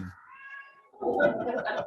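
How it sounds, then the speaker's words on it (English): A cat gives a drawn-out, wavering meow close by, followed by a person talking. "my cat is kind of meowing."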